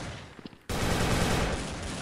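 Desert Eagle pistol fire in an online shooter game: a few faint taps, then an abrupt, dense, loud burst of gunfire that roars continuously to the end.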